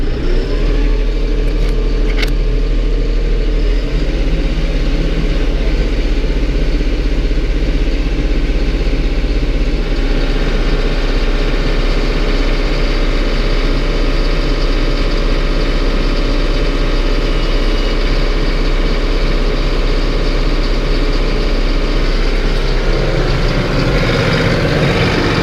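A tractor engine runs steadily with its PTO engaged at 540 RPM to drive a generator, a loud, constant low drone that holds its pitch before tapering off near the end.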